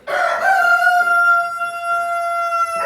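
A rooster crows loudly and close in a barn pen of Araucana and Buff Orpington hens, one long sustained cock-a-doodle-doo filling the whole moment.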